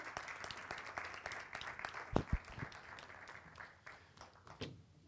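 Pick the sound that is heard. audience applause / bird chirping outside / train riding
audience applause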